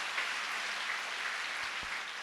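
A church congregation claps their hands in praise during a Christian prayer service, a steady dense wash of applause held at a moderate, even level with no talk over it.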